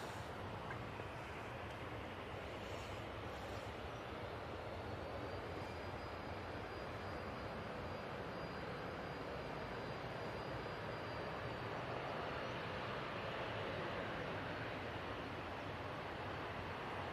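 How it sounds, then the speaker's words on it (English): An Aurigny ATR turboprop airliner touches down and rolls out on the runway, a steady broad roar heard from a distance, with a faint high tone running through it and no voices. "we do have that Aurigny about to touch down"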